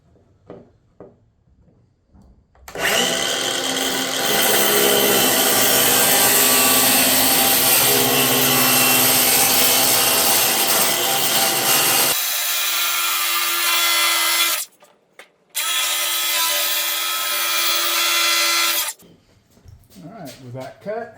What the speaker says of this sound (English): I've got my Milwaukee saw, and I'm just going to plunge cut right along the edge of the green tape